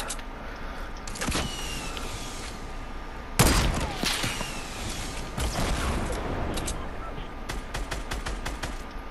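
Rapid bursts of Fortnite gunfire crackle through the mix, with sharp shots clustered near the start and a loud volley partway in over a continuous game soundscape.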